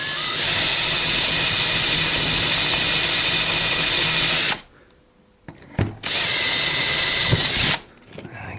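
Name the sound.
drill bit drilling aluminium rail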